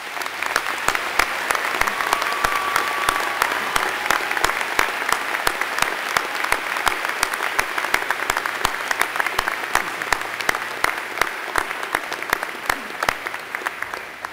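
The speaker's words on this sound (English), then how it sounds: "Please join me in a warm round of applause one more time for all of our graduates." Sustained applause for university graduates at a spring convocation ceremony, a broad steady roar of many hands clapping in a large hall, with sharp individual claps standing out throughout and no talk over it.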